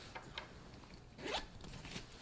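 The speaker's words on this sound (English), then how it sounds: "This thing zips out and it has this unexpandable mesh in there" A backpack pocket zipper drawn open in one quick pull, close and fairly quiet, with faint handling rustle before and after.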